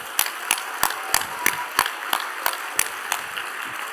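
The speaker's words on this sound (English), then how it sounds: "Jack and Jill, give yourselves a round of applause." Sparse, evenly spaced claps from a small rally crowd at a gun violence prevention event, about ten sharp hand claps in steady rhythm, fairly faint with no voices over them.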